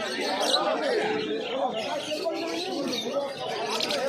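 Yellow-sided conures at a crowded pet market chatter and chirp steadily, high and busy, with a voice talking over them throughout.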